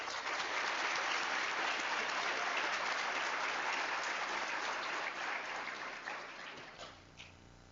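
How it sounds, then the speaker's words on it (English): Dense, sustained applause from an audience at a community action assembly, a steady wash of many hands clapping that holds strong before tapering off at the end. "Let's give him another round of applause."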